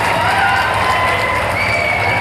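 Audience applause at a public address about a super-specialty hospital for Karwar, Uttara Kannada, a dense steady wash of clapping with crowd noise throughout, fairly loud and continuous.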